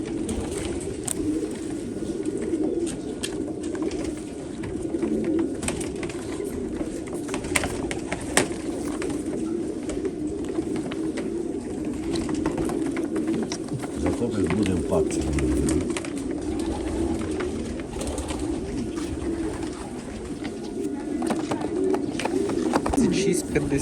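Pigeons coo and flutter at a pigeon auction hall, a steady crowded murmur of birds running under an auctioneer's talk throughout.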